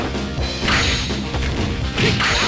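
Super moves landing in The King of Fighters '98, a rapid burst of loud smashing hits and whooshing strikes with heavy thuds, game sound effects with no voices.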